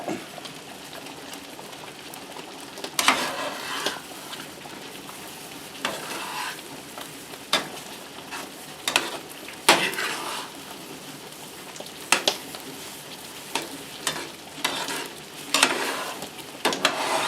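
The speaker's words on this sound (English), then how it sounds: "bring it back to a boil so that flour cooks" Flour-thickened beef gravy bubbles in a pan while a spoon scrapes and knocks against the metal in repeated strokes, a continuous close sizzle and simmer underneath, with no talk.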